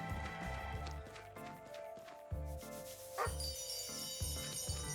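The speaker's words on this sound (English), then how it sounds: "There are many dogs to pet in this area." Dogs barking and yipping in the fantasy role-playing video game Chained Echoes, short repeated barks over a steady layer of game music, no talking.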